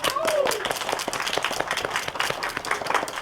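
Audience applause at a poetry slam after judges' scores, a dense continuous patter of many hands clapping with crowd noise, steady and fairly loud across the whole stretch.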